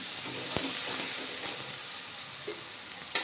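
Green chillies fry in a pan for a chicken curry, giving a steady, close crackling sizzle with a few sharp pops and stirring clicks.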